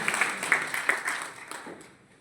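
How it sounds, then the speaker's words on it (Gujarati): Audience applause at a Gujarati gathering after a speech, a short burst of scattered hand claps that quickly thins out and fades over about two seconds. "પ્લીઝ જોરદાર તાળી"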